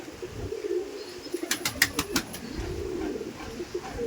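Kala Sobuj pigeons coo low and near in a loft, with a short run of sharp clicks or taps partway through.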